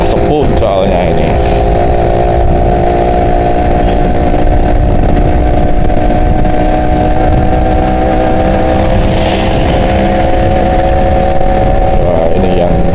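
An old Yamaha Alfa 2R motorcycle engine climbs a mountain road, running loud and steady with a sustained drone from start to finish and faint voices underneath.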